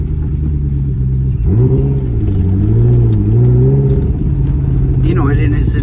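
A 1997 Lotus Esprit V8 twin turbo accelerates hard from a standstill toward sixty, the engine note rising and falling through gear changes as a loud, close in-cabin rumble, with a voice briefly audible near the end.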